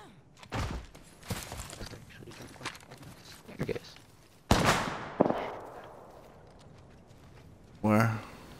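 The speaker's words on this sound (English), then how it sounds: "There's gunshots in there if you want to go push them." Sharp gunshot cracks ring out in an Apex Legends endgame fight, scattered single reports with one loud nearby burst and a late metallic blast, heard under players' chatter.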